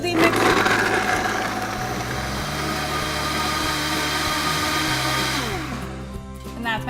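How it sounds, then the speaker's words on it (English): A Vitamix blender whirring a banana and frozen blueberry smoothie, a loud close motor roar with shifting pitch as the contents churn, winding down near the end. "We'll just pop the top on, put it on our smoothie mixer."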